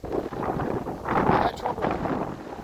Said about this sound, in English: Gusts up to 40 miles per hour.